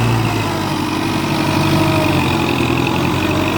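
A Kubota M6040 turbo tractor with a 2,434 cc engine runs at a steady, loud diesel idle close by, with a constant low throb and no voices.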